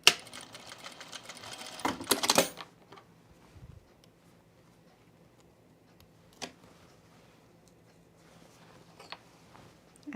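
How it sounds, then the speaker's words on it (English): Sewing machine back stitching a seam on pants: a brief burst of stitching at the start, then mostly quiet with faint, sparse clicks and small bumps of handling. "I'm gonna back stitch over this just to make sure."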